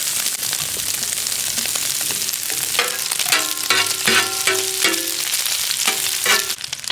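Steady crackling sizzle of meat frying in hot fat-tail lard for the dish jiz-byz, with sharp pops and spits breaking through, close and continuous.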